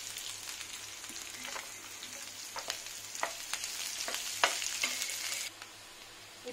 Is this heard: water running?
no